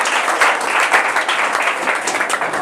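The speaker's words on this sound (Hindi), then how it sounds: "जोरदार इनके लिए एक बार ताली दें।" An audience at a school prize distribution ceremony for board exam students claps steadily and loudly, a dense, even wash of applause.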